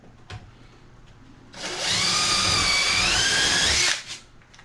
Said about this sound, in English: What I do, I just try to pre-drill the plywood.